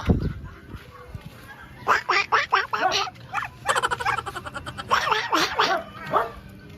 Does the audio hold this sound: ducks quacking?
yes